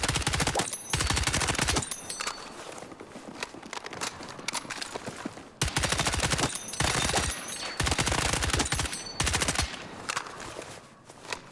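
Rapid bursts of video game gunfire crack out in repeated volleys, each string of shots lasting a second or two, separated by brief pauses and fairly loud throughout.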